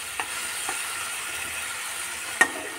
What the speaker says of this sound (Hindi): और टमाटर लहसुन को भी अच्छे से फ्राई होने दूंगी